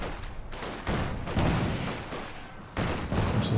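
Artillery barrage from ZiS guns in Company of Heroes 2, a run of heavy booming impacts arriving in uneven bursts over a dense, rumbling battle din, loud and close with brief lulls between salvos.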